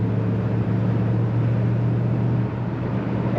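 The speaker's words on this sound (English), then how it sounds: "Just the right amount of rumble coming out the tailpipe of this car." Steady low idle rumble from the tailpipe of a 1938 Chevrolet two-door sedan street rod, heard up close and alone, with a slight dip in level near the end.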